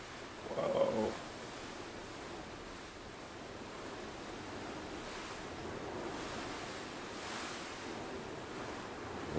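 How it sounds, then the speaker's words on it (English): Strong wind blowing steadily around a corn patch outdoors, a constant broad roar with slow swells, plus a brief faint tonal sound near the start. "Look at that wind."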